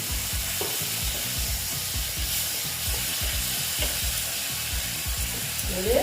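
Masala frying in a pan after a splash of water gives a loud, continuous sizzle close up, with rhythmic stirring scrapes running through it and no voices.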